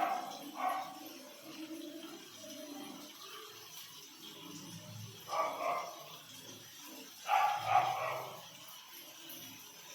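A dog barks in a few short bursts, somewhat distant, with quieter gaps of background noise between the outbursts.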